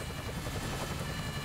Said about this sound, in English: Well, I guess the helicopter is coming now too.